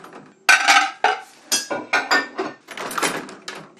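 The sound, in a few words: emptying the dishwasher, dishes and cutlery clinking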